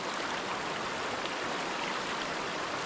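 Clear water flowing in an outdoor stream, a steady, dense rushing wash that stays loud and unbroken throughout with no voices.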